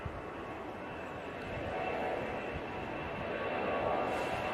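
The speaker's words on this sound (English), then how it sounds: "EasyJet now rolling." An EasyJet airliner rolls down the runway on its takeoff run at Manchester Airport in windy conditions, a steady broadband engine roar that swells gradually as it builds power, heard from a distance with no talk over it.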